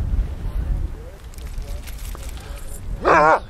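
Sled dogs resting on frozen White Iron Lake in Minnesota, with a sharp whining yelp near the end over steady wind and low rumble, while people talk throughout.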